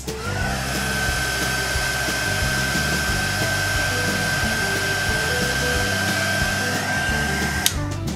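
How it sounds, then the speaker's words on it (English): A heat gun blows steadily on candle wax, a constant loud whirring hiss with a high whine that holds for several seconds and cuts off sharply near the end. "if you need to hit it with the heat gun again or move them around, you can do that"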